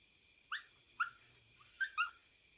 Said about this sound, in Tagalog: Tinahulan lang ng aso.